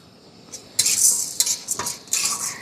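Chana dal poured into a kadai with a little hot white oil gives short, bright rattling and crackling bursts, a few separate scattered clatters, close and fairly quiet.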